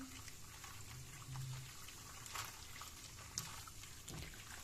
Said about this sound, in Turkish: Üzerine kaynar suyumu ilave ediyorum.